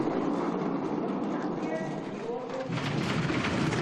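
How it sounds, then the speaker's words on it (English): Two-woman bobsleighs in an IBSF World Cup heat at Lillehammer rattle and chatter down the ice track in a continuous, rumbling roar, loud and sustained, while a commentator talks over it. "What is the noise on those sleds? That rattling, chattering."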